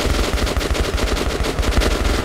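Rapid, continuous automatic gunfire in Metro Last Light Redux, loud and close, with fast evenly spaced shots filling the whole moment.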